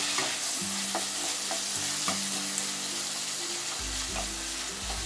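Masala with finely chopped tomato frying for egg pulao, a steady close sizzle with faint stirring scrapes and low hum underneath.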